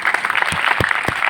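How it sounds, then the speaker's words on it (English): Brief audience clapping welcoming a speaker at a formal event in Vizag, a short burst of many hands with a few sharper individual claps standing out. "We will all welcome sir with a big clap"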